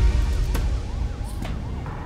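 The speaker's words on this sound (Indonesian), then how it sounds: "Kok ada suara ambulans segala?" An ambulance siren wails in a continuous rising and falling pattern, fairly loud, over low road rumble. No voices are heard.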